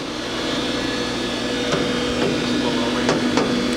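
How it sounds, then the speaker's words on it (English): Spindle of a new 2011 Doosan Puma 400LB CNC turning center running in low range, a steady mechanical hum with faint intermittent knocks in a shop. "now we're going to run the spindle"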